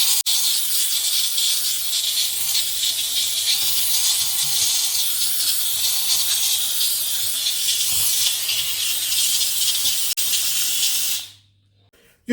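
A Silvercrest SDR 1050 D1 handheld steam cleaner, used for bathroom cleaning, gives a loud, steady hiss of steam that runs without a break, then cuts off abruptly near the end. A low hum sits underneath, and nobody speaks.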